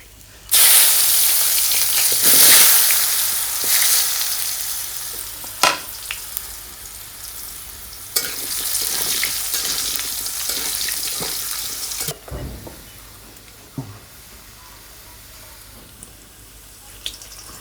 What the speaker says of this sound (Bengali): এখন আলুগুলো ভেজে নিব।